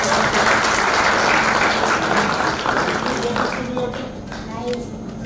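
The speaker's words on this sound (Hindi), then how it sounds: "वाह 11th पढ़ रहा है भाई, जोरदार ताली बजाओ" A gathering claps loudly for an 11th-class student, a thick burst of applause that stays full for about three seconds and then thins, with voices talking through the fading claps.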